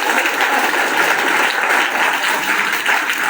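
Dense, sustained applause from a large school audience, steady and loud throughout with no voices standing out.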